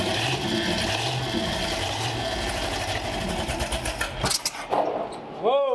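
A 1932 Schroll Coupe engine catches briefly and runs rough for a few seconds, then falters into sputtering pops, with people talking close by throughout.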